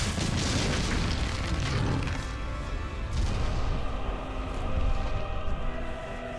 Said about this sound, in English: So, Ents attack the giant fire eye.